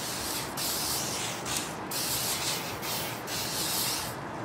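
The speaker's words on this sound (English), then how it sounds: "we're gonna take some WD-40 and just give it a nice film" WD-40 sprayed from an aerosol can onto the surface of a Chevrolet 454 big block engine block during cylinder head installation, heard as several close hissing bursts of a few seconds each, separated by short pauses.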